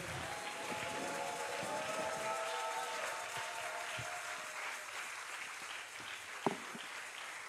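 A church congregation claps and cheers for the Lord in sustained, dense applause that stays even throughout, with a few faint voices rising within it.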